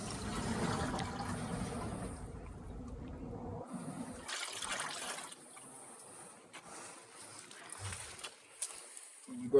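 Rainwater is poured into a container at an allotment, a gurgling rush of water that fades into softer trickles and splashes, fairly quiet and close.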